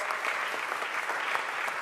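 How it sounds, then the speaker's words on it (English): Steady applause from an audience at a Philadelphia City Council session, dense clapping throughout at an even level, no voices standing out. "give Managing Director Teal a huge round of applause"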